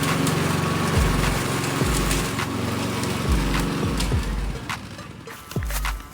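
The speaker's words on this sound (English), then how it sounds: "Just finish mowing" Lawn mower cutting Paspalum and Berea grass at a 15mm height along hard lawn edging, a steady close engine drone with repeated rhythmic thumps and crackles as the blades pass.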